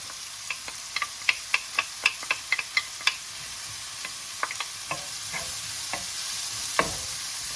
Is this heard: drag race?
no